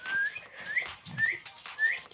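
A person whistles a short repeated tune of rising pitched notes, four phrases in quick succession, close and fairly clear with light background noise, during a casual Toilet Tower Defense gaming session.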